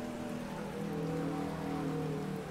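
Steady rain hisses evenly and fairly quietly throughout a replay in the rFactor 2 racing game, with no voices and no other clear sounds.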